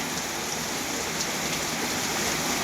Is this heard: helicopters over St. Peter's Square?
no